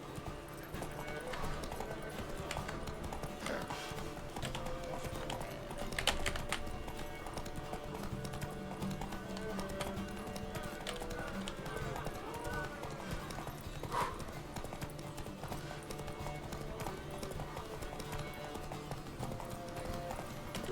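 Horse hooves clip-clop at a steady gallop during a race in The Witcher 3 video game, a continuous rhythmic pounding under a dense game soundtrack with a voice talking over it.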